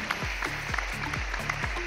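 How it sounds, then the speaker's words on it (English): An audience applauds a man named Mark as he takes his seat on stage at an industry panel, the steady clapping running over a pulsing, evenly spaced low beat for the full two seconds. "Can we have a round of applause for Mark"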